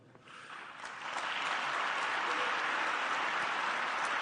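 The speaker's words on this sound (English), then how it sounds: "The sustained round of applause." A played recording of a crowd applauding a speech by President Trump in Saudi Arabia, starting modest and swelling within a second into loud, sustained, even clapping that carries on to the end.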